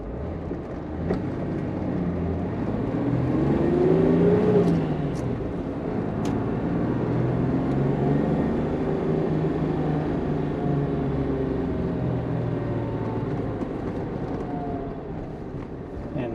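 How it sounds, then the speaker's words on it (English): A 1963 Mercedes W111 220SE Cabriolet with a 4-speed manual gearbox on a test drive gives a steady engine drone with rising and falling revs through gear changes, heard from inside the car amid road rumble. "that's the test drive of our 220 cab"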